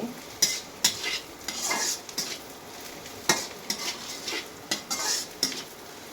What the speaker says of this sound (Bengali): বাদামি কালার হতে হবে, এটা আমি নেড়ে চেড়ে নিচ্ছি।